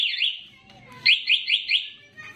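Two-way alarm on a Yamaha Sniper 150 motorcycle gives a rapid series of about five bright, rising electronic chirps, close and loud, after a brief warbling tone at the start.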